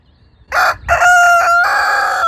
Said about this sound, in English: When a rooster crows, he's putting out a warning signal to other flocks that might be around.